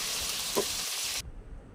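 Tilapia pieces frying in hot oil give a loud, steady sizzle with no talk, cutting off sharply toward the end to a quieter background.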